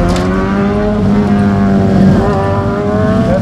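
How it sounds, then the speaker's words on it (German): A motorcycle ridden on a racetrack, its engine droning loud and close in a steady sustained tone with a slight rise in pitch, no talking over it. "Jetzt sind wir wenigstens mal im Motorrad gefahren."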